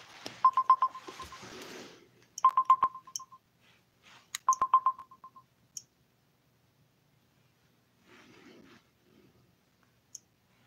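An incoming call-in rings on a telephone at a radio talk show: three bursts of rapid electronic trilling ring tones, separated by pauses, with scattered clicks in between and no talk.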